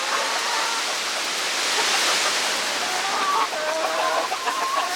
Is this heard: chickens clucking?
yes